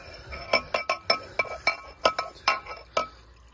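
Dry dirt pattering and clinking into a 1984 Eljer Emblem toilet bowl, a dozen sharp gritty impacts at irregular intervals, close and fairly loud, with no talk.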